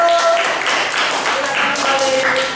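An audience applauds loudly at an Indonesian gathering on togetherness in diversity. The clapping is dense and continuous, with voices and cheering mixed in throughout.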